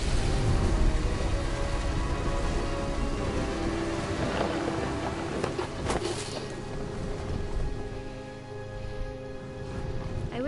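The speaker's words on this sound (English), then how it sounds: "The thunder sounded much too close and full of angry power" Thunderstorm with steady heavy rain in the video game What Remains of Edith Finch, a dense continuous downpour with deep rumbling thunder rolling beneath it and a sharper crack midway, loud and enveloping throughout.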